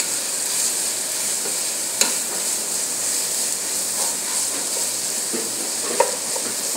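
Plenty of chopped onions soften in a hot pan with a continuous loud sizzle, and two sharp utensil clinks stand out from the stirring.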